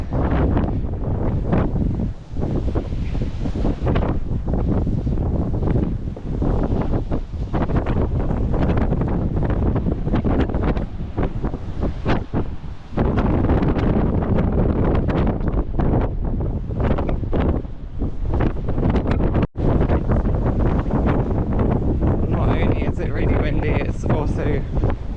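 Loud, constant wind roaring and buffeting against the microphone on a coastal walk from Wadebridge to Newquay, with gusts swelling and dropping throughout.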